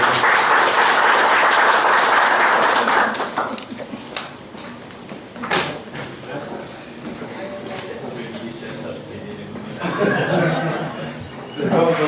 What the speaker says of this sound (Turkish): Valla başarılarından dolayı alkışlıyor zaten